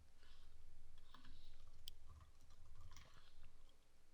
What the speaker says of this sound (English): So let's just type in Instagram.